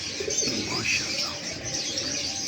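A Kasuri pigeon coos softly and steadily, close by, with faint ambient noise and no talking.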